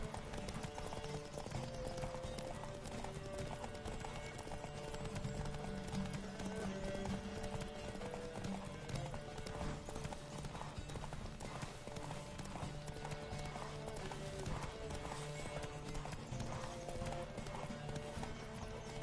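Horse hooves pounding in a steady galloping rhythm in The Witcher 3: Wild Hunt, continuous and busy throughout, with a dense mix of game sound underneath.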